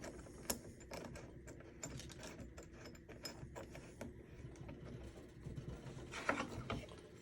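A wrench tightens a hand-threaded fitting on a Wedgle being repaired for priming trouble, making quiet, close ratcheting clicks and metallic scraping in an uneven rhythm with no talking.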